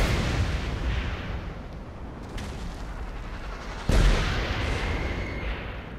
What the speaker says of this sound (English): Ow, someone's shooting it.